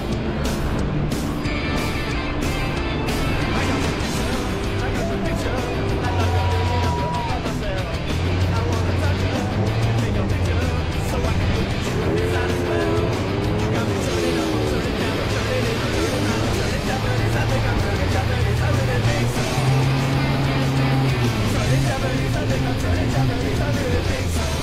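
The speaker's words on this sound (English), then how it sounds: "we're driving go-karts" Go-karts drive through Tokyo streets around Shibuya Crossing, their engines whining and shifting pitch among passing traffic, with people talking over the motor noise.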